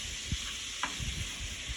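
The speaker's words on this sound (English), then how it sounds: "And then you just want to take your chops out of the pan and put them on a clean plate" Pork chops glazed with balsamic vinegar sizzle in a hot pan and are lifted out, with a couple of brief utensil scrapes over a steady frying hiss.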